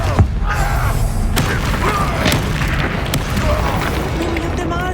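Blasting-spell explosions from the Confringo curse in Hogwarts Legacy, a dense run of booming bursts and pops over continuous game-combat noise, with a speaking voice now and then.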